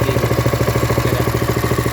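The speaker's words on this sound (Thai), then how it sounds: "เครื่องเดินนิ่มแล้ว ไม่ได้เร่งเครื่องเลยนะ" A 5.5 hp gasoline water pump engine idles smoothly at low throttle while pumping water hard, giving a loud, close, steady chugging with an even rapid pulse and no revving.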